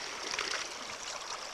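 Water sloshes and rushes steadily as a gold sluice is shaken clean, a continuous close, bright splashing wash.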